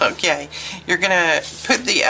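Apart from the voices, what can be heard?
No everyday noise stands out behind the speech.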